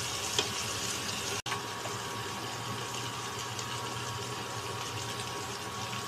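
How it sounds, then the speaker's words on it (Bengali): Capsicum lightly frying in a pan, a steady close sizzle with a brief tap near the start and a momentary gap, otherwise unbroken and without speech. "ক্যাপসিকামটা দিয়ে আমি খুব বেশি ভাজবো না, অল্পই ভাজবো"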